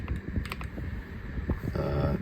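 Clicky key presses on an Epomaker Galaxy68 mechanical keyboard, a quick irregular run of close, crisp taps with brief pauses between them, heard alone in a quiet room.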